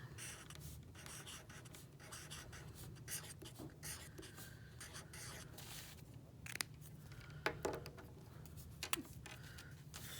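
A pen writes on paper while a Valentine's Day card is decorated at a library craft event, giving faint, close scratchy strokes in short irregular bursts with a few light taps.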